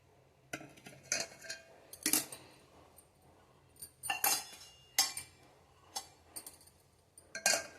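Clinks and taps of metal utensils against containers as homemade ghee is strained and poured, sharp separate knocks every second or so, close and fairly quiet, with no talking.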